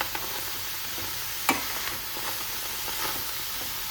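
Onions, ridge gourd, green chillies and garlic dry-frying without oil in a kadai, giving a steady soft sizzle and hiss, with one sharp scrape of stirring partway through.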